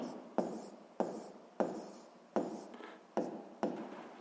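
Pen or pencil strokes on notebook paper during a physics problem write-up, six distinct scratchy strokes at roughly even intervals, close and fairly quiet, with no voice.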